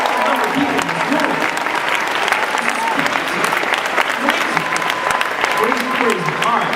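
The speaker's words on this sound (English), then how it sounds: "give yourselves a round of applause" A packed convention-hall audience at a Psych panel at San Diego Comic-Con claps and cheers in sustained, dense applause, loud and close, with voices shouting over the steady roar.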